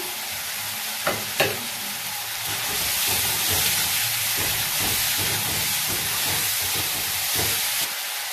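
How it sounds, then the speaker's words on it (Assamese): Raw and ripe tomatoes hit a hot pan for an egg dish and set off a loud, continuous sizzle and hiss, with a few sharp clatters near the start and soft stirring scrapes throughout. "এই কেঁচা বিলাহীটো পকা বিলাহীৰ লগতে ঢালি দিম এতিয়া"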